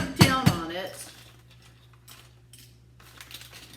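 Dry pasta being tamped down into a half-gallon jar for long-term food storage, two sharp hard clatters at the start, then faint rustling and light knocks fading into a quiet room.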